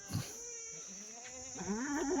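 Kathewadi goats kept for breeding, with a brief soft call early on and then a clearer, wavering bleat rising at the end over quiet background noise.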